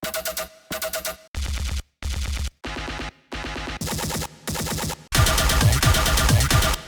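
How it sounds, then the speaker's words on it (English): Layered Splice sample stabs in an EDM drop hit in a run of loud, punchy bursts separated by short gaps, ending in a longer, denser sustained blast. "These are all splice samples that I just kind of found like little weird stabs."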